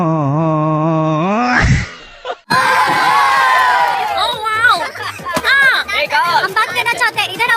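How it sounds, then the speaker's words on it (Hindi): A man screams loudly and at length, a raw wailing cry that cuts off briefly, then returns as strained, wavering shrieks close up and alone, with no speech over it. "अब 10 घंटे के लिए मैं आदमी के चीखने की आवाज"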